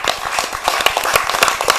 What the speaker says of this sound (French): donc merci de l'applaudir tout de suite.